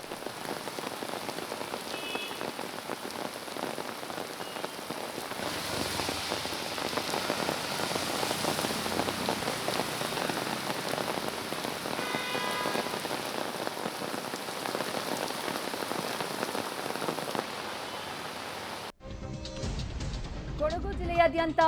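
Heavy rain pours steadily onto surfaces with wind, a dense, continuous hiss and patter that holds for most of the stretch before cutting off abruptly near the end.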